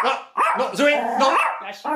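A dog barks and yelps loudly up close in quick, harmonic bursts, with voices mixed in.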